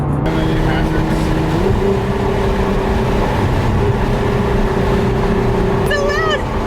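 A Nissan R35 GT-R engine roars through a tunnel, a loud continuous drone whose pitch steps up between gear changes, with a brief tire or whistle squeal near the end.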